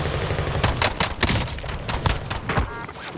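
Gunfire in the Call of Duty: Modern Warfare video game: a dense, continuous fusillade of rapid shots with sharp cracks over a steady rumbling background, fairly loud and without a break for about three seconds.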